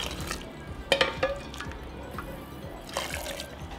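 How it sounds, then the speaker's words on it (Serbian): Boiled water poured back into a glass jar while making compote, a short trickling pour with a brief splash near the start and another toward the end. "I evo voda je proključala i vraćam je nazad u teglu. I punim sve do vrha."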